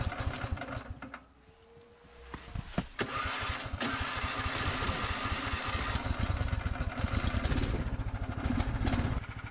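A Snow Dog snow machine with a faulty throttle switch sputters, dips nearly to a stall, then starts again and runs at a loud, rough, steady idle up close.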